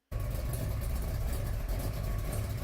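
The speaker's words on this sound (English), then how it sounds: "Oh my God, this car sounds so mean." A 1967 Camaro's engine idles close by with a deep, steady, rumbling burble that starts abruptly and holds at an even loudness throughout, with no voices.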